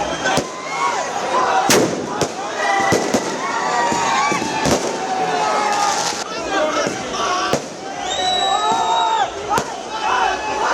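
Firecrackers and fireworks burst repeatedly in the streets as Indian fans celebrate the Asia Cup cricket win. Sharp cracks and whistling rockets are heard with a cheering, shouting crowd and voices throughout.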